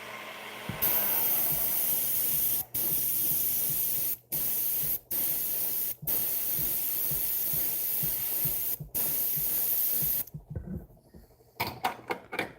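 Paint sprayer hissing in long steady outdoor bursts, near and loud, with several brief pauses between passes, putting down overspray; the spraying breaks off near the end into scattered clatter.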